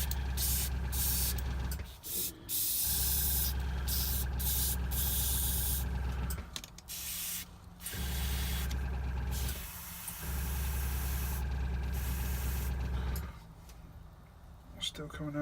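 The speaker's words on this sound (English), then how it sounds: "just set the compressor back again" A small air compressor running for airbrushing a miniature Ogryn bust indoors on a snowy day, a steady loud droning hum with brief dips and hissing spray bursts.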